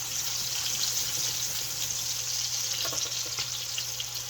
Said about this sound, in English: We're not cooking them all the way. We're just trying to sear the exterior.